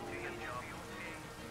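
Rain in the World War II strategy game Company of Heroes hisses as a dense, steady downpour through the whole short moment, with faint background voices mixed in.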